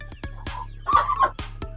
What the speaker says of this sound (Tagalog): ang klase na manok sa India na IG, Indio Gigante.